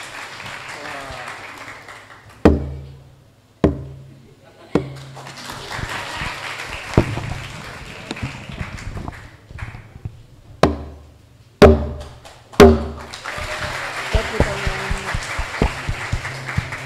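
Audience applause at the opening of the BKSN Pekan Cahaya contest for the Diocese of Timika in 2025. Scattered sharp knocks and taps sound under a voice, then dense clapping swells near the end.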